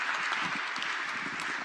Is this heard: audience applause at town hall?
yes